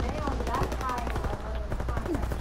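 PPSh submachine gun firing in a video game: rapid, sharp automatic bursts in quick succession, loud and close throughout.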